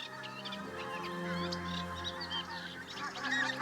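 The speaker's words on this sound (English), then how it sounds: "listening for the first sound of the pink-footed geese" Pink-footed geese honk and call in a faint, distant chorus, overlapping calls rising and falling over a low steady hum.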